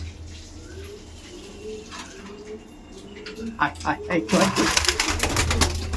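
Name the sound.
pigeons cooing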